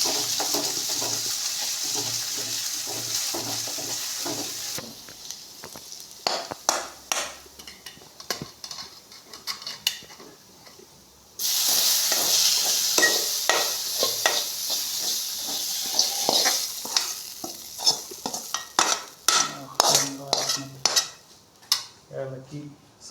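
Jackfruit erissery is stirred and sautéed in a pan, with a steady sizzle and repeated clinks and scrapes of a spoon against the metal. The bursts are close and fairly loud, with quieter pauses between stirring passes.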